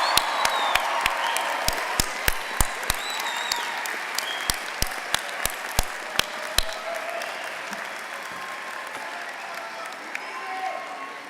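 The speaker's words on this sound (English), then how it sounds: "Give them another round of applause." Applause for Spring 2024 graduates at a commencement ceremony, crowd clapping steadily and fairly loud throughout, with sharp individual claps standing out in the first half before thinning toward the end.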